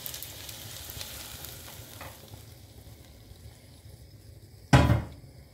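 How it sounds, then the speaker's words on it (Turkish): Caramelized onions go into a hot cooking pot, and a quiet background of frying gives way to a sudden loud sizzling burst near the end, with a brief clink of cookware before it. "Şimdi soğanlarımızı tencereme, pişmekte olan tenceremin içerisine ilave ediyorum."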